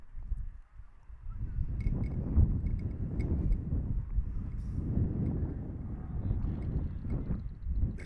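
Gusting wind buffets the microphone in low, uneven rumbles at an outdoor softball game on a sunny day, with faint distant honks and calls from outside.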